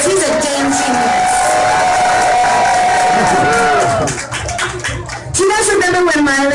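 A crowd at a birthday party in a gay bar cheers, whoops and claps loudly and close up, with shouting voices mixed in and a brief dip before the noise swells again.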